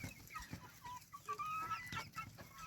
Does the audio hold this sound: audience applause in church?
no